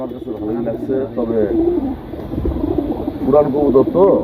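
Rajshahi pigeons kept at home coo softly in short rolling phrases, heard close by alongside voices talking.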